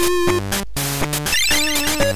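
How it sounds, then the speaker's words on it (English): A mobile phone ringtone plays loudly and alone, a bright synthesized melody of stepped tones with a short gap partway through, filling the whole span without any talk. "That's my phone ring, if you can hear that."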